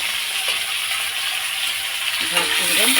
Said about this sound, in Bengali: কালো জিরা ফোড়ন দিয়ে আলুগুলো ভাজতে দিলাম